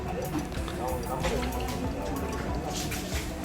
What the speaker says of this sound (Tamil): சுத்தமான பசும்பால் நம்ம இங்கே இதை இதில் மிக்ஸ் பண்ணுறீங்க.